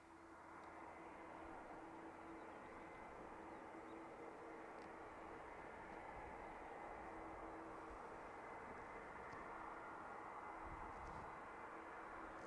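An incoming Airbus A330 at Manchester Airport produces a steady, fairly faint jet engine roar with a constant tonal hum, heard from a distance and holding evenly throughout.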